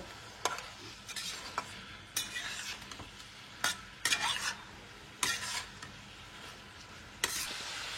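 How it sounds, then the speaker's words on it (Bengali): Spatula scraping through fried cauliflower and spice masala in a pan, spaced clanking strokes over a low steady sizzle, close and without talk. "দিয়ে এটাকে আবার ভালো করে কষিয়ে নেব।"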